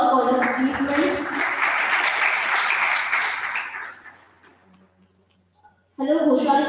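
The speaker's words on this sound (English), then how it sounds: "Please have a huge round of applause for this achievement." Audience applause at an event inauguration: a steady wash of clapping for about four seconds that fades out, followed by near silence before a voice starts speaking.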